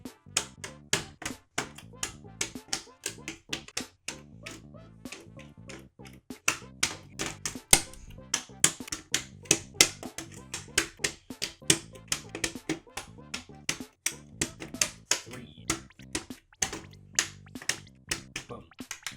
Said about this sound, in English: It is time to reapply the keys.